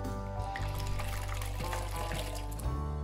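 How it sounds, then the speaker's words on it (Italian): Water mixed with dissolved fresh brewer's yeast is poured into a bowl for a pizza biga, a soft continuous trickle heard close over a low steady background hum. "Versiamo l'acqua e il lievito nella ciotola"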